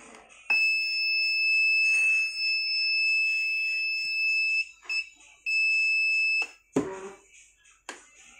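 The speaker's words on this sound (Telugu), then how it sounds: "ఇంకోటి బజర్" A buzzer on a wooden generator working model sounds a shrill, steady electronic tone for several seconds, then in shorter bursts, with handling clatter near the end.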